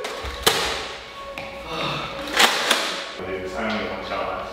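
Foam darts from a Nerf gun thud and tap sharply a few times during an indoor game, with players talking and shouting around the impacts at close range.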